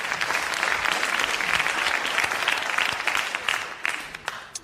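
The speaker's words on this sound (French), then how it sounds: "nous allons applaudir comme il le mérite" Dense, sustained applause from a TV studio audience at a 1981 French variety show, many hands clapping together loudly and steadily before thinning out near the end.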